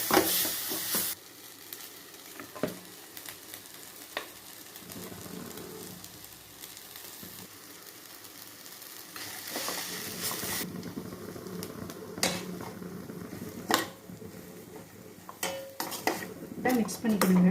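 Mango idiyappam noodles are stirred and mixed in a metal pan, with intermittent clanks and scrapes of a spoon against the pan over a faint background, louder bursts of clattering near the start and end.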